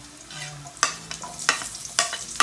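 Chopped garlic browning in hot oil in a pan for Filipino chicken afritada, a steady sizzle broken by four sharp scraping stirs of a utensil against the pan.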